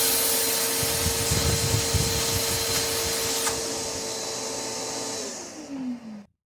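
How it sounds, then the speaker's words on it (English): A small vacuum runs close over a chipped car windshield, pulling out loose glass particles with a steady whining drone and some rattling, then it winds down and stops. "I need to vacuum it out"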